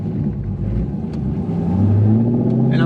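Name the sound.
cammed C5 Corvette Z06 engine loping and revving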